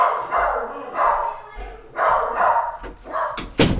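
A household dog barks in short bursts from another room near a door, the yaps repeating over about four seconds with a sharper bark at the end.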